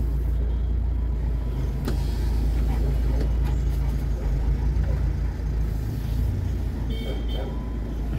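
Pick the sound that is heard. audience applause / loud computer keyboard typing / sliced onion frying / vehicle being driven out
vehicle being driven out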